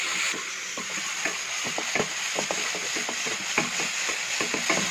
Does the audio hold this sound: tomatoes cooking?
yes